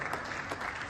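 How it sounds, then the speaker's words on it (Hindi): Continuous applause from an audience at an association's golden jubilee ceremony, steady and dense clapping filling the moment with no voices over it. "तालियां बजते रहना चाहिए"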